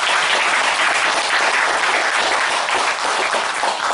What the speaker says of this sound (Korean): 뜨거운 박수 한번 보여주시죠.